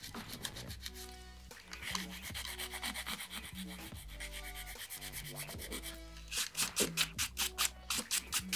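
An acrylic nail being filed into an almond shape for pink and white competition nails: close, scratchy rubbing strokes that pulse unevenly, then turn into faster, sharper back-and-forth rasps near the end, with no talking.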